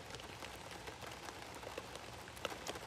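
Steady pouring rain falls outdoors, a dense, continuous hiss with scattered sharper drops spattering on surfaces, close and fairly loud with no voices.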